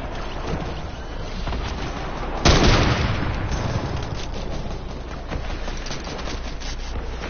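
An enemy player shooting in a video game: a loud burst of gunfire hits, then trails into a dense, lingering rattle of shots over constant background game noise.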